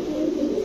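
A Pakistani teddy pigeon at a pigeon sale gives a brief, low, soft coo close by, heard alone.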